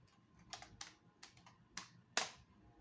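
Low-profile keyboard keys clack quietly in quick, irregular taps, about eight distinct strikes over three seconds with the sharpest near the end, alone in a quiet room.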